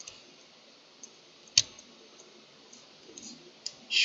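Computer mouse clicks, several faint, sparse taps close up in a quiet room, with one louder click near the middle and a short scrape at the end.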